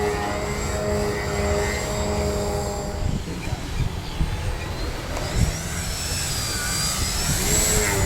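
A small Addiction RC airplane buzzes through a knife edge spin, its electric motor a steady droning whine with shifting pitch, close and fairly loud throughout.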